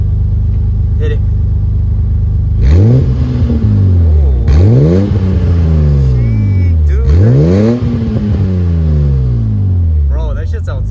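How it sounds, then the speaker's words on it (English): A BMW E28 engine with a Billy Boat exhaust revs hard three times in a row, each surge climbing then dropping back to a deep idle rumble, loud and close. "Let's do a quick Billy Boat rev for you guys."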